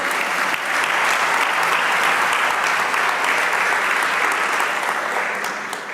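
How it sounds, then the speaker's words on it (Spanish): A church congregation breaks into sustained, dense applause that swells quickly, holds steady for several seconds, then begins to taper, with no voices over it. "Dele un aplauso."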